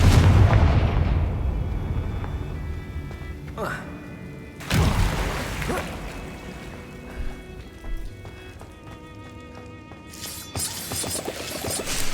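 Confringo fire spell blasts erupt in Hogwarts Legacy, booming explosions with crackling tails rising out of game ambience and music, several sharp hits spread across the stretch.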